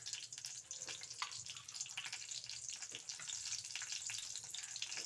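Whole cumin seeds and a dry red chili frying in hot oil, a steady close sizzle with faint crackles and pops throughout, no voices.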